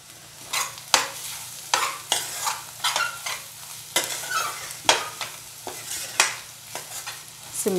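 A spatula stirs spinach and egg frying in a little oil in a pan, with regular scraping strokes about once a second over a soft, steady sizzle, close up and without talk.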